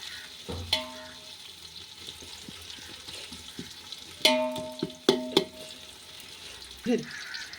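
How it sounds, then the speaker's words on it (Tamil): Biryani masala sautéed in a pan, with a faint low sizzle under a few sharp clanks and scrapes of a spoon striking the pan, close by and sparse. "நல்லா ப்ரௌன் ஆகிற வரைக்கும் வதக்கணும்."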